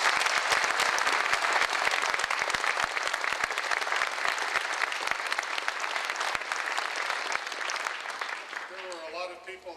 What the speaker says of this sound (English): I think we owe our 2 guests a huge round of applause